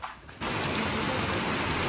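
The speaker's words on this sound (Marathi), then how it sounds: "पावसानं जोरात केलाय" Heavy monsoon rain pours down in a dense, steady roar that starts abruptly and then holds at an even level, with no voices.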